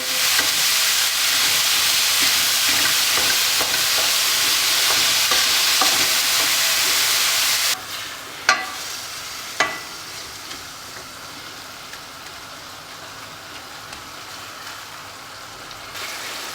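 Steady loud sizzling of minced lamb frying, then it quiets abruptly, leaving a few sharp clatters of a utensil against the pot.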